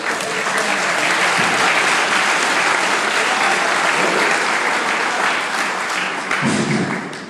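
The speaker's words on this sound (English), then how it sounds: "How about a round of applause for Justin?" An audience at a leadership talk breaks into loud, sustained applause, a dense wash of clapping hands from a crowd that fills the room for several seconds before starting to thin out.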